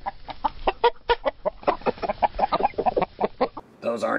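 Chickens cluck in quick, uneven bursts close by, a busy run of short calls over about three and a half seconds before a different, harsher sound cuts in at the end.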